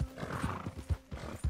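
A horse in the Red Dead Redemption II video game clip-clops with several soft hoof thuds while a faint, drawn-out whinny rises in the middle, all quiet and close.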